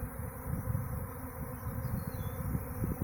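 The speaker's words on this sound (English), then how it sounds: "There's thousands of bees flying around me right now." Thousands of honeybees swarming over a front yard, a dense continuous buzzing hum close around, steady with slight swells, no voices.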